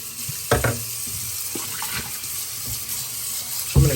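Water runs from a sink faucet while dishes are washed, a steady splashing stream with a few louder clunks and splashes near the start and end, close and fairly loud, with no talking.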